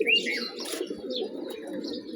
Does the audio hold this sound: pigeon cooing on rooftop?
yes